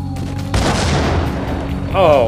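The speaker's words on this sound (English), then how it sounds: "that guy right there has a grenade launcher" Heavy explosions from a grenade launcher in the video game Max Payne: a loud broadband blast with a sustained rumbling roar, then a second burst near the end, with game voices mixed in.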